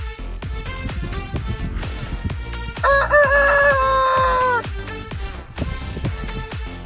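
A rooster crows once, loud and drawn out, over rhythmic background music with a steady beat.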